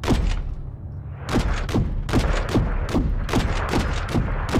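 Sustained gunfire aimed at an enemy helicopter in Call of Duty Modern Warfare 3, a steady run of loud booming shots fired in a rapid rhythmic series with no pauses, dense and close.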